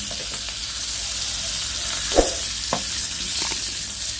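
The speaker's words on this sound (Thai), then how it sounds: "เราทอดปลาทูเค็มเราต้องใช้ไฟอ่อนๆครับ" Salted mackerel frying gently in oil over low heat, a soft, even hiss with a few faint spatters and light stirring knocks, close and unhurried.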